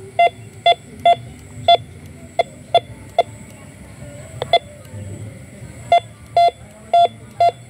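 A handheld metal detector beeping as it passes over buried metal, a series of short, sharp, evenly pitched tones in uneven bursts, loud and close over a faint outdoor hum, with a voice talking softly underneath.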